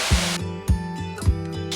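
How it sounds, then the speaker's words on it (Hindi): Water splashes into a pot of fried, cooked masala for soya chunk kofta gravy, a loud rushing pour broken by three sharp thuds and sizzling bursts. "अब हम इसके अंदर पानी डाल देंगे।"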